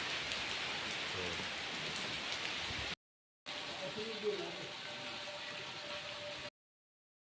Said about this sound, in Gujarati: ધમધોકાર વરસાદ પડે છે.